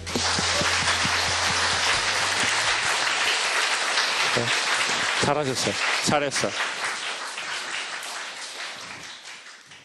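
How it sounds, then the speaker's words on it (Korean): A lecture-show audience breaks into loud, sustained applause that gradually tapers toward the end, with a brief spoken remark heard partway through. "박수 주세요."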